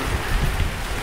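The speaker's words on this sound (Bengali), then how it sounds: "চরম বৃষ্টি, রানওয়েতে বৃষ্টি ভিডিও করছি" Heavy rain pours onto an airport runway as a dense, steady hiss that fills the whole second, loud and close, with no voices.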